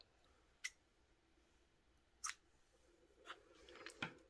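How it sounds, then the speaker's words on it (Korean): Scissors snip through crochet yarn for a scarf, a few quiet separate clicks spaced apart, followed by soft handling sounds in a hushed room with no talk. "가위로 자르고 실은 잡아당겨주세요."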